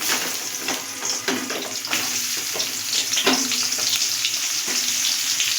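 Onions frying in hot oil in a wok, a close, continuous hissing sizzle with a few stirring scrapes and knocks, no voices over it.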